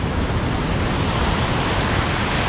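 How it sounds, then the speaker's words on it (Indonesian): Large ocean waves pound the shore at Karang Hayu beach, a dense, constant roar of surf that fills the whole stretch with no breaks and no voices. "Memang sedang besar ombak sekarang."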